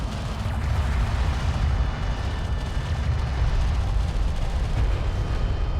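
Continuous heavy gunfire and booming explosions from a desert vehicle battle in the sci-fi strategy game Homeworld: Deserts of Kharak, loud and dense throughout with no pauses.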